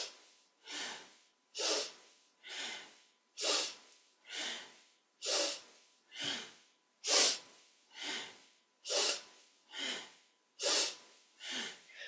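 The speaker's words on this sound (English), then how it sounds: "breathing nice and steady with this movement" Deep, steady yogic breaths during a kundalini kriya, about a dozen forceful rhythmic inhales and exhales evenly spaced roughly a second apart, close and loud with no talking.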